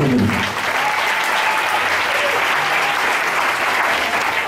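Steady, loud applause from a church congregation praising the Lord during a Sunday service, continuous dense clapping filling the room for several seconds with no one speaking over it.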